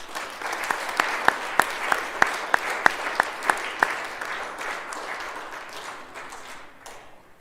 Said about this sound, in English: And also if we could have a round of applause for Harry, Ewan, Charlie and William in Year